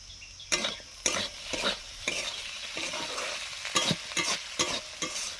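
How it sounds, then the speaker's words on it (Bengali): Potatoes fry in a pan with turmeric and salt, giving a steady sizzle that is broken by sharp, scraping strokes of a spatula stirring them. The strokes come at an irregular pace and sound close. "আলু ভাজাটা প্রায় হয়ে এসছে"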